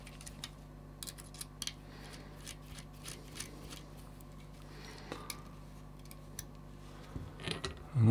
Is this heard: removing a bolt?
yes